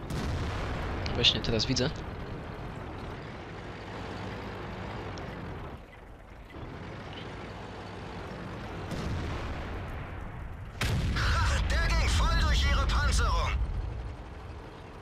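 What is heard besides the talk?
tank gun firing in the video game World of Tanks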